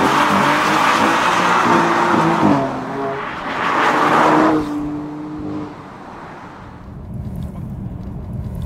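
An original BMW M3's engine roars and climbs through the revs, easing off and surging again, then settling to a lower rumble near the end.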